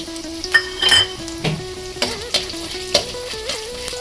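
Gram sizzles in a hot pan for a home-made snack while a spoon stirs and scrapes, with intermittent metallic clinks against the pan.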